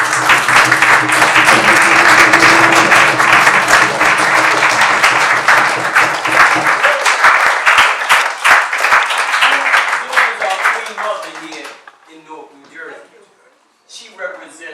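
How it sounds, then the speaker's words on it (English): A lecture audience breaks into loud, sustained applause with cheering, the dense clapping lasting several seconds before thinning into scattered claps and voices as it dies away. "I want y'all to applaud Zulatifa."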